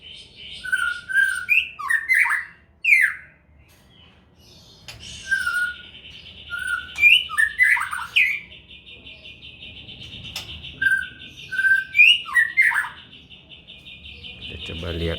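Caged white-rumped shamas (murai batu), a breeding pair, calling with clear, varied whistled phrases and chirps in repeated bursts over a steady high insect-like hiss, fairly close and loud.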